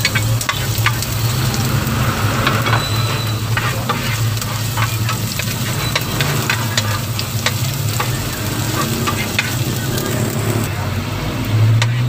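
Garlic and then onion sauté in heated cooking oil in a home kitchen, a steady loud sizzle broken by sharp scraping taps of a stirring utensil throughout, over a low background hum.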